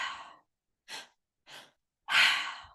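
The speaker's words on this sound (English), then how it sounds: "Basically, you breathe into your belly, you breathe into your chest, and you exhale from the mouth." Three-part breath: two quick, short sniffing inhales into the belly and then the chest, followed by a longer, fuller breathy exhale through the mouth, close and soft with brief silences between.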